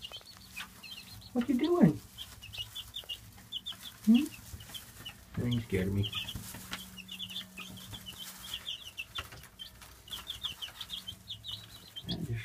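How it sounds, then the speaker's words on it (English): Backyard chickens in a coop with roosting poles, faint clucks and soft scratching rustles running steadily in the background, broken by a few louder close squawks and wing flutters while a person talks over them. "And just scratching away, doing their chicken thing."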